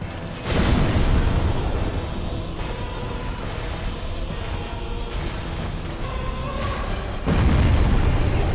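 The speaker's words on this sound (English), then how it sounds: "the explosion don't feel very good." Explosions in the video game Dark Souls Remastered: a heavy boom opens, a rumbling roar continues, and a second deep boom hits near the end, all loud and close.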